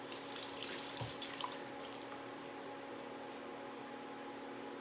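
Kitchen tap water running steadily over romaine lettuce for a Caesar salad, a soft continuous splashing hiss at low level with a faint hum underneath and no talking.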